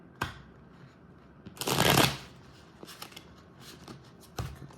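Tarot cards being shuffled close by, with a soft riffle at the start, a long dense burst of shuffling in the middle and a few lighter flicks and taps near the end, heard alone.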